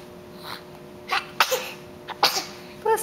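A small child's sneezes, several short bursts spaced across a few seconds, close and fairly soft in a quiet room with a faint steady hum behind them.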